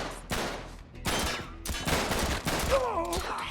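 Rapid gunfire in Uncharted 3: Drake's Deception rattles through several quick bursts of loud, close shots, with a short ricochet-like whine near the end.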